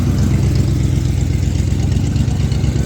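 A 40-year-old Squarebody Chevy truck engine idles close by, a steady, loud low rumble with an even pulsing beat and no voices.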